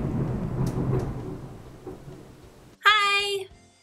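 A thunderstorm sound effect: a deep, loud rumble of thunder rolls and slowly fades over a few seconds, then gives way abruptly to a short, bright tonal sound near the end.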